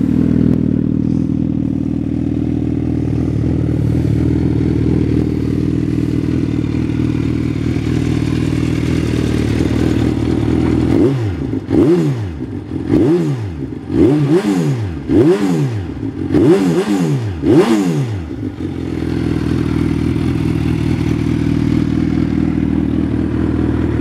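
A custom 2008 Suzuki B-King motorcycle with a 330 rear tire idles with a loud, steady rumble, then revs sharply several times in quick succession before settling back to a smooth idle, with no talking.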